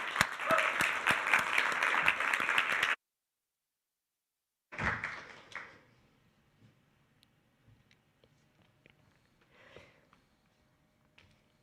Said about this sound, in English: So please now welcome with a warm applause the first speaker of today